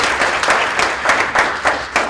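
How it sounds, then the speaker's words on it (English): Audience applause for a conference panel at a preconference session, a steady wash of many hands clapping with slight swells, moderately loud and without talk. "Can we have another round of applause for our lovely colleagues?"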